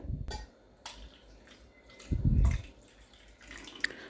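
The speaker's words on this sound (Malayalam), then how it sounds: "ഇതിലേക്ക് ഞാൻ ഒരു കപ്പ് വെള്ളം കൂടി ചേർക്കുന്നുണ്ട്" A cup of water is poured into a homemade onion solution, a short splashing burst in the middle with faint drips and clinks before and after.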